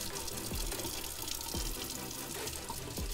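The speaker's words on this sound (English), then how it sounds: "I'm gonna rinse my hands off after getting all the dirt on it from the cast iron" Tap water runs steadily into a sink as hands are rinsed of dirt from cast iron inside an Airstream trailer, a soft continuous splashing stream with a few brief knocks, fairly quiet and close.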